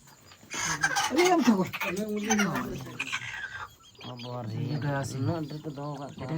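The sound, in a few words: many chickens clucking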